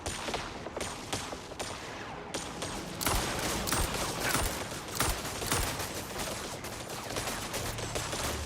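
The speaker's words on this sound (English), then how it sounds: "I don't know what they're shooting at." Rapid gunfire rattles through a MindsEye firefight, dense bursts of automatic shots that thicken into a steady, loud barrage after a few seconds.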